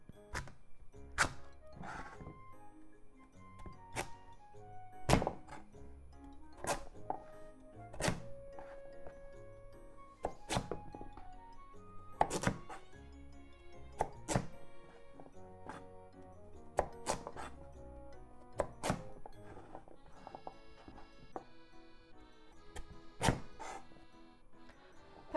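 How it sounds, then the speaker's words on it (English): A knife chops through kabocha squash on a board in sharp, irregular thunks, a couple of dozen firm cuts spaced a second or two apart, close and clear with no voices. "Then cut into chunks."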